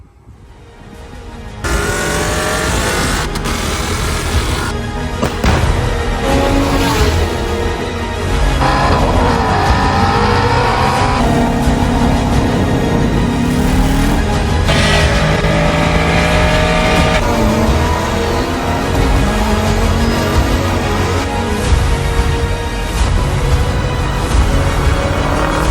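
A 2015 Chevrolet Silverado pickup, originally with a 5.3 V8, starts up and runs loudly and close by, its engine revving repeatedly with rising and falling surges over a steady rumble for about twenty-five seconds.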